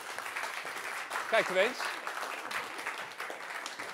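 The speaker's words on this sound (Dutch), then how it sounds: "U krijgt een hartelijk applaus" Moderate audience applause for the final speaker at a university talk event in Tilburg, a continuous patter of clapping heard at some distance with a brief spoken comment rising over it partway through.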